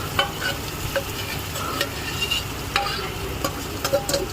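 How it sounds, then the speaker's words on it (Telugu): Fried onions being stirred through a pan with chicken waiting to go in, a steady fry hiss broken by repeated scraping strokes of a spoon, close and moderately loud, with no voices. "ఫ్రైడ్ ఆనియన్స్ వేసుకొని బాగా కలుపుకోండి."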